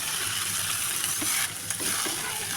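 A fish head frying in a pan of hot oil sizzles steadily up close, with a brief scrape of stirring partway through.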